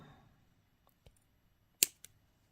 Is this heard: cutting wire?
yes